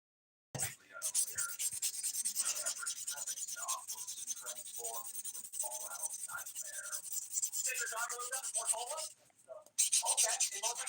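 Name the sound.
buffing fingernails with a nail buffer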